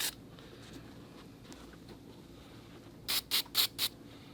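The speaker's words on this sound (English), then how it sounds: "Take my spray adhesive and just put some little shots on there just to tack it in place." Short bursts of spray adhesive hiss onto a Toyota Tundra or Sequoia driver seat leather cover, four quick close sprays in a row after quiet handling noise.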